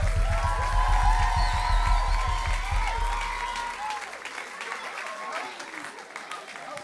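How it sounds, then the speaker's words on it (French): Applause for the men's group at a family church service in Le Havre, a dense clapping crowd with rhythmic low thumps early on, then a sustained wash of clapping that fades slightly toward the end, with voices mixed in. "Un tonnerre d'applaudissements pour les hommes."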